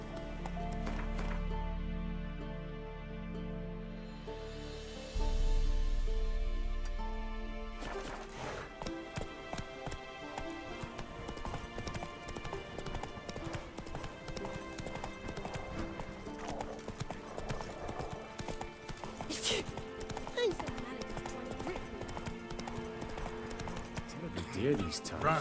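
Roach, Geralt's horse in The Witcher 3, gallops in fast, continuous hoofbeats after a short musical opening, with a whinny partway through and occasional spoken lines over the running.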